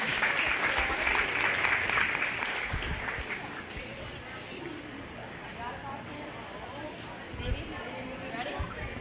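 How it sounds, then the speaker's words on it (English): A crowd claps in steady applause at a 4-H/FFA goat show, fading after a few seconds, followed by quieter murmuring and scattered voices. "Let's go ahead and give her a big round of applause."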